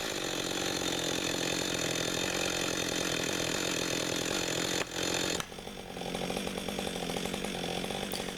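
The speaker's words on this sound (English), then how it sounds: "I was more careful and was able to finish my cut from below and did not pinch my saw." Chainsaw cutting a spruce blowdown log outdoors in autumn, its engine roaring loud and continuous close by, with a short dip and change in tone midway as the cut finishes from below.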